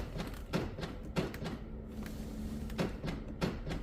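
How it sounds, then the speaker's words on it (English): Central locking actuators clunk in the doors of a 2005 Skoda Superb as the unlock button is pressed, giving several short mechanical clicks and thuds spread over a few seconds, close by, with one rear lock suspected faulty. "I'll press the unlock button. You can hear the other locks go in."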